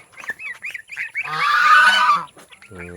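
A goose on a backyard farm gives a loud, drawn-out honking call in the middle, with shorter honks and clucks from other fowl, including chickens and turkeys, before and after it.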